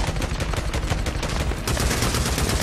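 Continuous automatic gunfire in the video game Days Gone hammers away loud and close, a dense stream of overlapping shots with no pauses.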